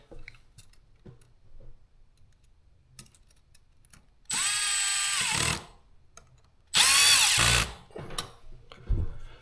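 A small power driver snugs Romex cable clamps on an electrical box in two short, loud whirring bursts separated by quiet handling clicks.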